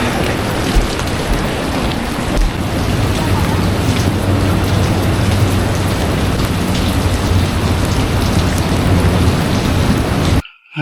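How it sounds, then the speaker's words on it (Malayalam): Heavy rain pouring down in the Maldives, a dense, loud, unbroken hiss of drops hammering surfaces, with low rumbles like distant thunder, running steadily before cutting off abruptly at the end. "ഹെവി മഴയാണെന്ന്"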